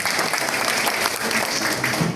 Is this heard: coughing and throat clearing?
no